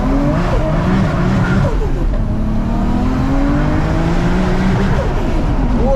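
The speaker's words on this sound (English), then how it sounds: "Nah, that weren't enough revs, man." A 700bhp Nissan R33 GTR Skyline revs hard as its tires squeal, a loud close engine roar with rising and falling pitch sweeps over a continuous screech, and someone speaks briefly underneath.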